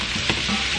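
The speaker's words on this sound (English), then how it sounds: "After a minute, we're going to add our carrots and celery. Give that a stir." Garlic, carrots and celery sizzling as they are stirred in a hot soup pot, a loud, dense, continuous frying hiss with soft thumps of the spoon moving the vegetables.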